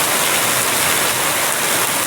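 Heavy rain pouring down in a dense, steady hiss, loud and close with no break across the short stretch, no voices.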